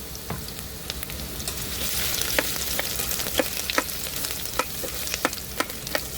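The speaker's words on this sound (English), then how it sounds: "We're going to saute these for 3 minutes." Onions sauté in a pot in an Instant Pot cooking setup, producing a steady bright sizzle dotted with sharp crackles and pops that grow slightly louder, with no one speaking.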